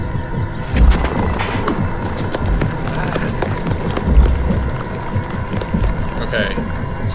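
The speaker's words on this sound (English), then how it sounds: "it's definitely some sort of flashback sound, because I don't know where the clapping is coming from" Scattered clapping heard as a flashback sound in the Amnesia: Justine video game, a run of sharp claps with a few deeper thuds, moderately loud under a steady background with someone talking.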